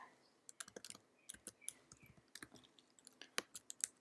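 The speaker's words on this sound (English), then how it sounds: "let's go ahead and type in CAASPP Science Practice Questions in Google search bar" Fingers typing a Google search on a computer keyboard, a fast irregular run of close, crisp key taps with brief pauses, no voice over them.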